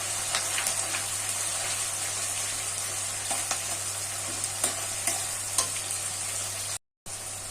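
Chili chicken is stirred in a hot pan after soy sauce is added, giving a constant bright sizzle with scattered scraping taps from the spoon and one short break near the end.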